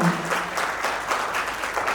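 An audience at the WTI launch event claps briefly, producing a short burst of steady, fairly close applause.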